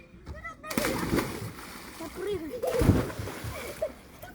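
A person dives into the water at a beach during a fitness camp diving contest. A sharp, close splash is followed by sloshing water, and people talk over it.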